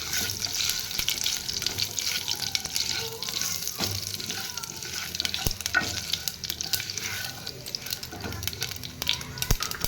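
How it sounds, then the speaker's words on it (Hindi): Cumin, mustard seeds and dry chillies fry in hot oil in a pan, giving a dense, continuous crackling sizzle up close with sharp pops and spoon scrapes throughout. "जीरा सोरिष शुखला लंका भाजी हो गलानी"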